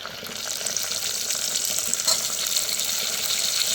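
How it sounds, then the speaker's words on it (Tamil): Chopped chayote sautéing in a pan, a continuous moderate sizzle with soft crackles and faint stirring clatter, fairly close and unbroken, no talking. "இப்போ வந்து நம்ம கட் பண்ணி வச்சுருக்க சவுத்துவை சேர்த்துக்கலாம்"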